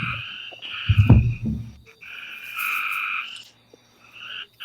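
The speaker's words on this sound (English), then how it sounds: "I hear frogs." Frogs croak outdoors in loud, sustained, pulsing trills that overlap and repeat. A deep low croak stands out near the start, and the chorus pauses briefly before resuming.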